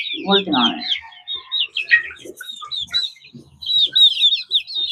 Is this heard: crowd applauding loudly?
no